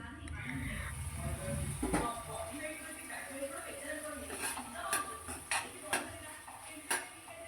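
Utensil clinking and scraping against a covered cooking pot as tomatoes are stirred while simmering for ivy gourd chutney, with irregular metallic taps standing out over a low background murmur.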